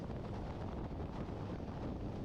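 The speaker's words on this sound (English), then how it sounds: "you can really feel the wind coming at us" Strong headwind buffeting a rider on a motorcycle on the Grapevine, a continuous low rumbling wind roar across the microphone, steady and fairly faint throughout.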